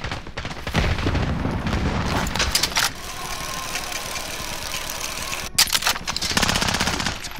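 Automatic gunfire rattles in Call of Duty: Modern Warfare, loud rapid bursts with booming shots that keep up almost throughout, with short pauses between volleys.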